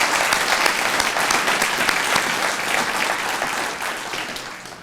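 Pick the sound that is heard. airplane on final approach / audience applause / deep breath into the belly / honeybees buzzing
audience applause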